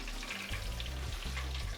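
Fish frying in hot oil, giving a steady close-up crackling sizzle with a low bubbling undertone throughout, no voices.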